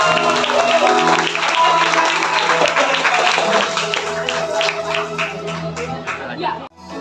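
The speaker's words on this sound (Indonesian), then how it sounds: "Sekali lagi dengan tepuk tangan yang meriah buat Tuhan kita." Church congregation at a Christmas service bursts into loud, sustained applause, a thick wash of many clapping hands lasting several seconds before cutting off abruptly, with voices and a faint tone underneath.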